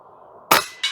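A pellet from an FX Airguns Crown MkII air rifle strikes a target as a single sharp, loud crack, followed a moment later by a second shorter, bright impact.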